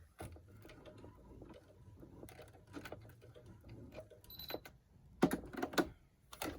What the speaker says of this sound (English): Now I'm just gonna back stitch.